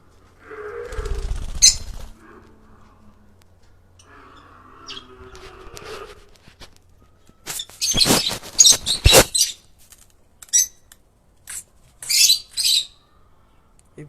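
Caged parrots kept in boxes with water let out loud, harsh squawks in a cluster of bursts, after a voice talks briefly at the start.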